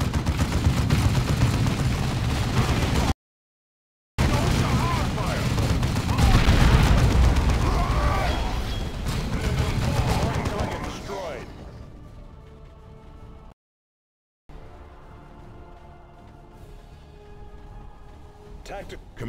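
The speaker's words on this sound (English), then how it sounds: "The suppressive fire from my heavy bolter will keep the Greenskins pinned." Heavy bolter fire from Space Marine Devastators in Dawn of War II, a dense, loud roar of rapid shots and booms that later drops to a quieter rumble, with a voice speaking over it.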